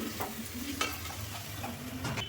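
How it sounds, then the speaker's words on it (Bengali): Mixed vegetables sautéed in a pan on a stove, a steady close sizzle with a spatula scraping and stirring at intervals, continuous and moderately loud, no voices. "দেখো এই যে সবজিগুলো সব ভালো করে একটু কষিয়ে নিলাম।"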